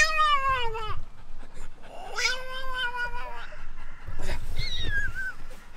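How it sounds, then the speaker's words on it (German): A cat meows and caterwauls in long, wavering, rising-and-falling cries, close and loud, met while out with a dog on a leash; three drawn-out calls come one after another with brief pauses between them. "hier ist eine Katze"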